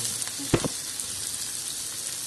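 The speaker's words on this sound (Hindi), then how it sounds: "प्याज को हम ब्राउन होने तक भूनेंगे।" Onions fry with garam masala in hot oil in a pan for chickpea chole, a close, steady sizzle with a quick scrape of a spoon near the start.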